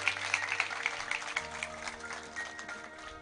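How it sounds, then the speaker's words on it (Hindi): Faint applause from the audience at a government event where Punjab Chief Minister Bhagwant Mann hands out appointment letters to young people: scattered claps run throughout, soft and somewhat distant, over a low background hum. "एक बार जोरदार तालियां नाल"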